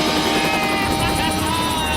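A helicopter set up for a drone-spotting test hovers nearby, its loud, steady rotor drone and whine filling the scene, with a person talking underneath.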